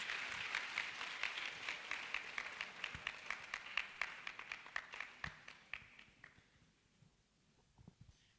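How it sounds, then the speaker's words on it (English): Applause for an executive director at a spoken word contest: a fairly quiet, steady patter of hand claps from an audience that thins out and fades toward the end. "let's give her a round of applause"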